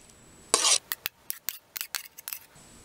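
A spoon scrapes and clinks through chutney being mixed into curry from a South African military ration pack, giving one longer scrape followed by a string of short, close taps and scratches against the container.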